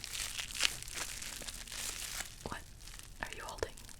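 Crinkly plastic packaging being unwrapped and torn during an unboxing, with close, soft rustling and crackling bursts and a few sharper rips; faint whispered speech is present.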